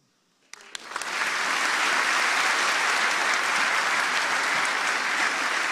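A Devoxx France keynote audience bursts into applause after a short silence, the clapping swelling within a second into a loud, dense, sustained roar that holds steady to the end.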